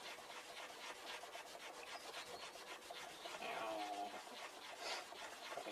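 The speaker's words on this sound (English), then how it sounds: "while I file down a piece of rubber" A hand file works steadily across a piece of rubber for a Harley-Davidson XG750 Street, making a faint, continuous rhythmic rasping scrape.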